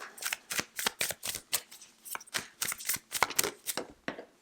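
Tarot cards being shuffled by hand during a weekly reading, a quick run of crisp riffling bursts repeating in a steady rhythm, close and fairly loud, with no talking.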